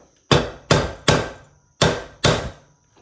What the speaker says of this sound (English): make sure that pin makes contact with a hard surface like a vise, and use your hammer